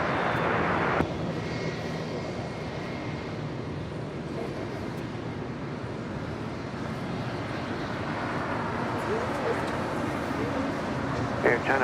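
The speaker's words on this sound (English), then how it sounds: "the Dreamliner now rolling down 25 right" A Boeing Dreamliner rolls down runway 25 right at Los Angeles International Airport for takeoff, its jet engines giving a steady, loud, sustained roar throughout, while air traffic control radio talk runs underneath.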